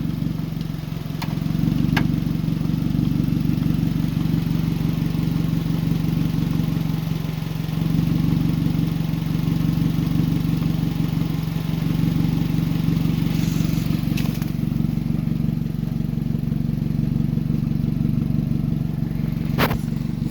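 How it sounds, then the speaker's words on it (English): A Mazda Protege engine idles steadily after starting, a continuous low, even rumble with a faint rhythmic clatter that holds level throughout, with no talking. "It started the Mazda."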